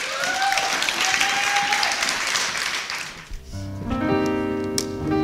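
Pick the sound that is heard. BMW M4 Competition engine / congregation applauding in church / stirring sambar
congregation applauding in church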